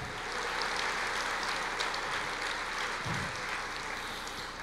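A church congregation applauds in worship, giving a dense, steady wash of clapping that holds level for several seconds with no voices on top.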